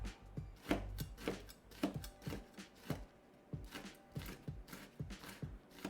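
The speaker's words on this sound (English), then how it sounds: "These are fairly spicy bird's eye chilies, and I'm chopping quite a few of them." Spicy bird's eye chilies are chopped on a cutting board with a knife, producing steady, quick, close knocking taps throughout, soft and without talking.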